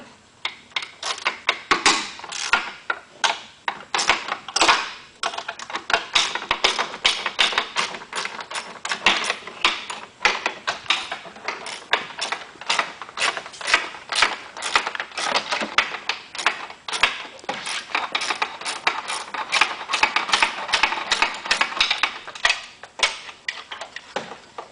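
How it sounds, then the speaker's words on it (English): A 12mm socket and ratchet loosening the bolt that holds the rectifier at the front of a Yamaha Apex, Vector or RX-1 snowmobile, clicking in rapid, uneven runs of sharp ticks, close and steady, with no talk. "We're just going to loosen up the bolt that secures the rectifier in the front of the sled."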